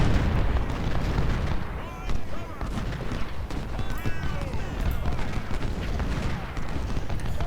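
Artillery fire from an American Civil War battle game at Malvern Hill, cannon booms and gunfire rolling continuously in a dense, loud battle din with no pauses.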